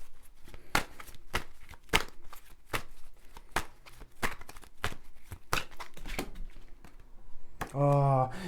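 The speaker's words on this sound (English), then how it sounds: "I'm just going to shuffle these cards" Tarot cards are shuffled by hand in a quiet room, a run of crisp riffling snaps and soft flicks at an uneven rhythm, close and clear, with a brief voice breaking in at the very end.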